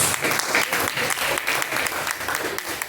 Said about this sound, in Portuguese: Palmas para Jesus, receba o servo de Deus.